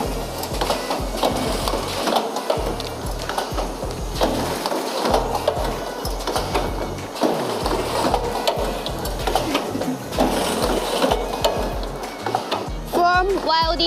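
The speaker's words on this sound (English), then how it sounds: "this one is Rich's semi-automatic headband welding machine" A semi-automatic headband welding machine for foldable masks runs in a factory, giving off busy mechanical clatter and hiss in repeating cycles, with brief pauses and a faint whirring squeal at the end.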